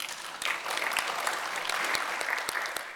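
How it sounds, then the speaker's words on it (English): An audience claps steadily throughout at a business chapter meeting, a dense patter of many hands with a few sharper claps standing out, fairly close. "Let's give a round of applause for participating."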